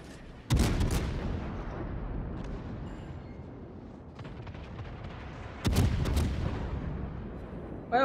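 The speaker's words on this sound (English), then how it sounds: "Now we can see some US armor-piercing shells at work here." US armor-piercing naval shells fired from a warship in World of Warships, heard as two heavy booming salvos several seconds apart, each a sharp loud blast trailing into a rumbling decay.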